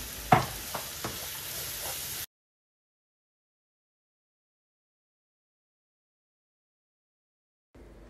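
A pan filling with added salt is stirred briefly, a few clinks and scrapes over a soft sizzle, then the sound cuts to silence before faint frying returns.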